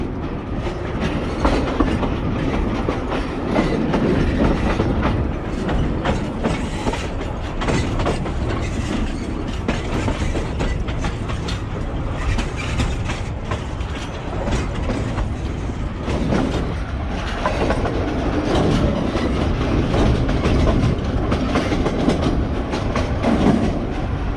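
A narrow-gauge railway train rolls steadily along in Russia, its wheels beating a loud, continuous clickety-clack over the rail joints with the rumble of the cars beneath.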